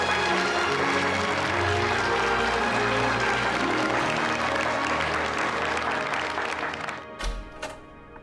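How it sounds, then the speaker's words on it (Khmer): Sustained applause from a group fills the room, loud and steady before thinning out and fading near the end. "សូមសម្ដែងការអបអរផងណា"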